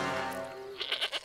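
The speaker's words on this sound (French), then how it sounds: "Une chèvre?" Cartoon goat bleating on a Strawberry Shortcake Halloween episode, a short wavering bleat over fading background music, close and clear, no voices.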